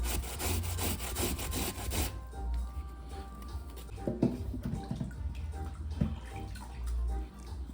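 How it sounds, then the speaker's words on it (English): Fresh coconut grated by hand for an old-school Jamaican sweet potato pudding, a steady rasping scrape repeated in short strokes, close and fairly loud at first, then softer, scattered rubbing with occasional knocks. "then I'm going to grate my coconut"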